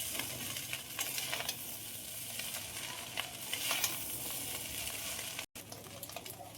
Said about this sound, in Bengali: আবারও খুব ভালোভাবে নেড়ে দেবো